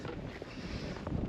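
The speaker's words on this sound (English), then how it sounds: "There's a lovely breeze at the moment, really nice because it's been very warm." A breeze blows across a hillside col on the John Buchan Way near Stobo in the Scottish Borders, giving a steady, close, blustery rumble of wind on the microphone with no talking.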